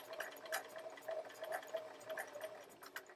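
Sewing machine stitching forwards and backwards along a seam on quilt fabric, a quiet, rapid rhythmic whirring of the needle with regular pulsing beats, heard close and alone.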